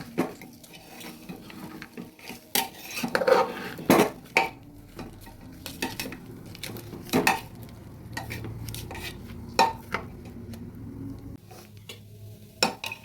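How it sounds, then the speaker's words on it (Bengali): Rice with turmeric powder being stirred in a pressure cooker for a vegetarian basanti pulao, with repeated scraping and clinking of a spoon against the metal pot and a faint sizzle beneath, with no talking. "দিয়ে দিচ্ছি হলুদ গুঁড়ো ভালোভাবে নেড়ে দেব"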